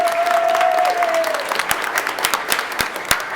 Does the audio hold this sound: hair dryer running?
no